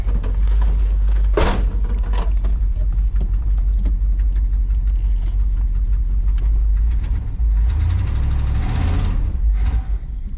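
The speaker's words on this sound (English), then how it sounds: "Fan's still spinning, so let's see if we can get it to move." A 1962 Ford Galaxie engine runs as the car tries to move, with its fan still spinning: a loud, close, continuous low rumble with a couple of sharp knocks and a rising surge toward the end.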